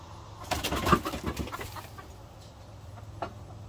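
Chickens cluck in short bursts close by in a chicken coop, a cluster of squawks followed by a few quieter clucks, over a low background hum.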